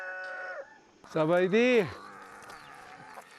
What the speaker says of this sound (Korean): 닭이 또 반겨주네